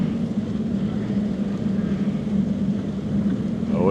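Four-stroke machines pull away across a snowy winter street in West Yellowstone, their engines a steady, close droning rumble with wind noise throughout.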